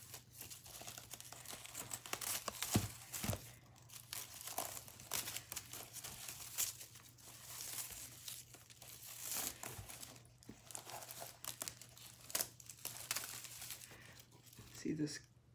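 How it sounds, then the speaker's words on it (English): Turquoise crepe paper crinkles and rustles in close, uneven bursts while a birthday gift is carefully unwrapped, with a person talking over much of it. "it has this beautiful turquoise crepe paper, which I'm trying to undo without ripping"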